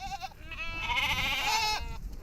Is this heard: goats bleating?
yes